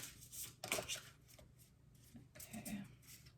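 Tarot cards are drawn and shuffled from a deck in a couple of brief papery riffling bursts, close and soft, with quiet pauses between them.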